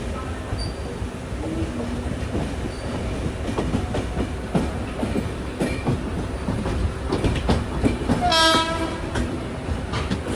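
The Konark Express pulling out of Masjid station in Mumbai and slowly gathering speed, rumbling with repeated wheel clicks over rail joints, a brief squeal and a horn blast near the end.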